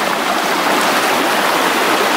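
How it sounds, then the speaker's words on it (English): A small waterfall in a stream at a gold panning spot pours in a loud, steady, close rush of splashing water with no other sounds. "it's like a small waterfall here"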